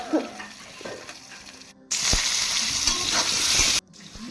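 Fish, potatoes and eggplant fry in a pan: low crackling at first, then a loud dense sizzle surges for about two seconds before cutting off, with a few light knocks.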